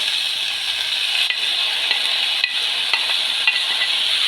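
Diced peppers stirred into a pot with hot oil and garlic for moussaka, a steady close sizzle with light scraping and soft clinks of the spoon against the pot.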